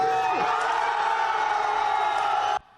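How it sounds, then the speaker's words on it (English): Outside a prosecutor's office at night, a crowd of supporters cheers and shouts continuously and loudly, a dense roar of voices that cuts off abruptly. "A crowd erupts into cheers as former Taipei Mayor Wen-je walks free."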